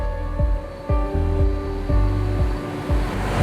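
Wastewater pours from two large sewer pipes where they meet and flow into a treatment plant. A steady, loud rush of water carries a droning mechanical hum that pulses every half second or so.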